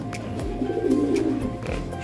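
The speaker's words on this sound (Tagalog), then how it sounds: "Yan Porsche yan mga kalapatids" Pigeons in a breeding pen cooing close by, a low throaty rolling coo swelling in the middle over a faint background hum.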